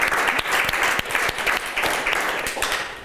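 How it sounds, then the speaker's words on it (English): Audience applause fills the room at the opening of a stage play, a dense steady wash of many hands clapping with sharp individual claps standing out, loud and continuous for the whole stretch. "Applause, of course."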